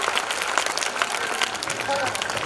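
A dense, steady wash of audience applause fills the whole stretch, loud and close, with a murmur of crowd voices mixed in beneath the clapping.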